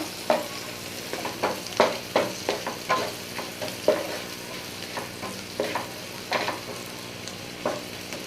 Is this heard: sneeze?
no